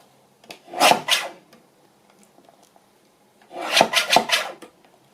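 A paper journal cover being trimmed with two short bursts of scraping, rasping cuts about three seconds apart, close and fairly loud with quiet between them and no talking.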